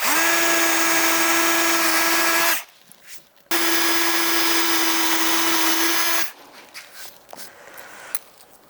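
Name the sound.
Japanese bamboo drill bit drilling melamine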